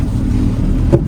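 A neglected Volvo 240 rumbles through a backyard with a steady, close engine drone. A brief clunk or knock sounds near the end.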